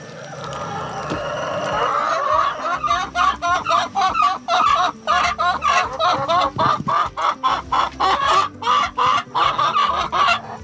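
Laying hens cluck steadily and loudly up close, a dense run of repeated clucks and squawks from the flock, with no talk over them.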